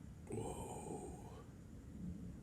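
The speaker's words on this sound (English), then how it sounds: "it's so weird because it's dry. It's not raining." Thunder from a dry lightning storm with no rain in Indio, California: a low rumbling roll that swells and fades over a couple of seconds, fairly loud, with no speech and no patter of rain.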